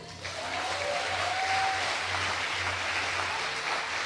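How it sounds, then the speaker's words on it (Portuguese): Church congregation applauding, a steady, fairly distant wash of clapping hands sustained over a low background hum, without any clear voices. "aplaude o Senhor aí."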